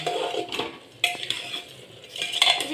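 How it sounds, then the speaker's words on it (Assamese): A spoon stirs local chicken curry in a pot, giving a few close scraping strokes and light metallic clinks against the pot over a soft cooking hiss. "অলপমান লৰাই দিছোঁ, লৰাই পেলাই ঢাকনা দি"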